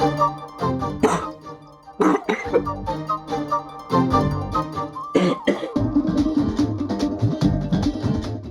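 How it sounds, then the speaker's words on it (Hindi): Someone coughs in a series of harsh, close bursts, several in a row with short gaps, and background music continues underneath. "खांसी क्यों?"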